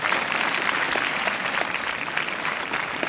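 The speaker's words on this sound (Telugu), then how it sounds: "క్లాప్స్ కొట్టండి" Audience applause at a university Christmas celebration, a large crowd clapping in a thick, even wash of sound that holds steady for a few seconds.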